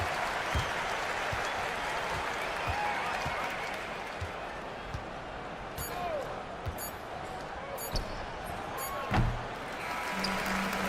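Home crowd cheering and applauding in an eBasketball esports match after a victory, a steady broad wash of clapping and crowd noise with faint court thuds underneath, heard alongside talk.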